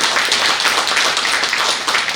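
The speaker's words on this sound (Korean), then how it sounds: "우리 한번 박수 한번 부탁드립니다" Audience clapping at a political lecture hall event, a dense, loud burst of applause from a seated crowd filling the whole moment without speech.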